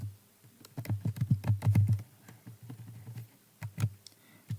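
Answer text being typed on a computer keyboard: fast clusters of close, crisp key clicks, then a short pause and a few more scattered keystrokes, with no voices.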